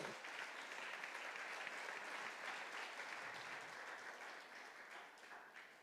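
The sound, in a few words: church congregation applauding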